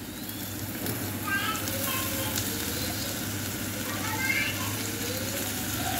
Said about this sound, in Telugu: సిమ్లో పెట్టుకొని ఫ్రై చేసుకోవాలండి.